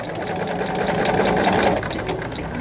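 A sewing machine runs continuously while back-stitching over a seam line on a fabric bag, a steady close whirring hum with a fast rapid needle rhythm from start to finish.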